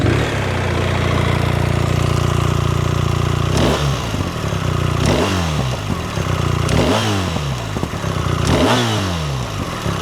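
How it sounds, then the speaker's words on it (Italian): A BMW R1300 R naked motorcycle idling with a deep, steady exhaust rumble, then sharp throttle blips that rev the engine several times in close succession, loud and near with no talk. "Volete sentire come suona questo scarico."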